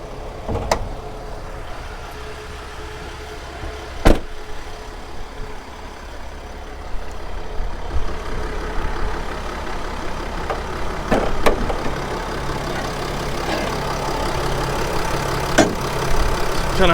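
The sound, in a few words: 2015 Mercedes-Benz Sprinter 2500 diesel engine idling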